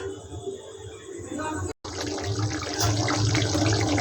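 Water pours steadily into a cooking pan of soybean do piyaji, a continuous splashing rush that pauses briefly and then resumes a bit louder.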